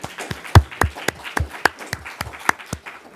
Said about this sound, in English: a round of applause for all the Sawdust artists